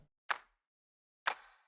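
A single hand-clap sample in Ableton sounds twice, about a second apart, each a crisp, snappy hit with a short tail, faint and isolated with silence between.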